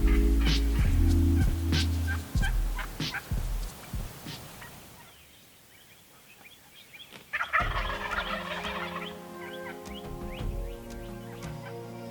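Several wild turkeys gobble repeatedly outdoors in Kansas in spring, their rattling calls overlapping at moderate distance, fading briefly before another loud burst of gobbling.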